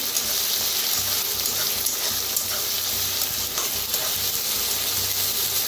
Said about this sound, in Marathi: छान असं भाजून घेऊया कांदा आणि कढीपत्ता, मिरची, लसूण।